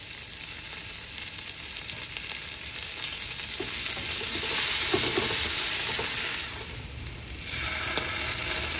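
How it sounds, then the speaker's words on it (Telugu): Mint and coriander fry with onions in oil, giving a steady, close sizzle that swells and fades as the pan is stirred, with no talk. "తర్వాత పుదీనా, కొత్తిమీర వేసుకొని వేయించుకోండి."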